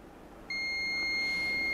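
A multimeter continuity beep starts abruptly and holds as a steady high tone, close and clear, with no speech.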